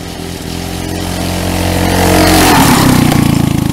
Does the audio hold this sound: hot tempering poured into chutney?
no